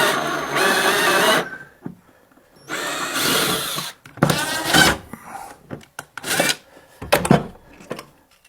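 A power drill whirs into a wooden staircase to fix a creaky stair, in several loud, close bursts with short pauses between each run and a few quick final pulses.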